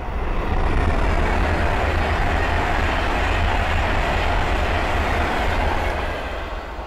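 A Class 390 Pendolino run by Avanti West Coast rushes past on the West Coast Main Line at Linslade, a loud, sustained roar and low rumble close by that holds steady before fading a little toward the end.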